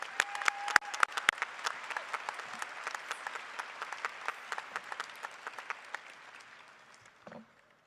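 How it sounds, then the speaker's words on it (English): A crowd at a Grand View University commencement ceremony applauds steadily, the dense clapping fairly distant and quiet, thinning out toward the end, with a brief faint voice at the close. "Let's give a round of applause for our two speakers today."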